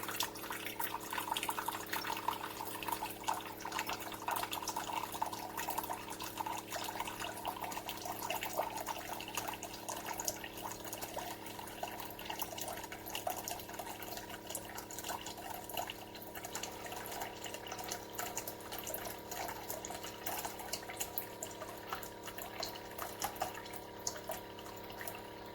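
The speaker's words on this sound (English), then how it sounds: "I turn it on, and it starts pouring water automatically, and it'll drain my whole tank." Keurig K-Cafe single-serve coffee maker pouring water on its own, a faint steady trickle and splash that runs continuously without talk.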